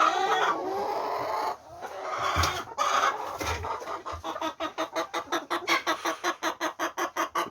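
Chickens cluck in an unheated, closed chicken coop, starting with mixed clucks and calls, then settling into a rapid, evenly pulsing run of close, loud clucking.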